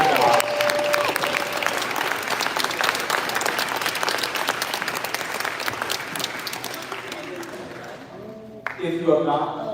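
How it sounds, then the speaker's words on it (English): Audience applause fills a hall at the Transition Maine I Belong Summit, a steady, dense clapping that holds for most of the stretch, then thins out near the end as a voice begins speaking. "let's give them a round of applause."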